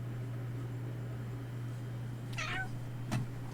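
A pet cat meows once, a short rising-falling call up close, followed by a brief scuffle or thump, all over a steady low electrical hum from a computer setup with a lit keyboard.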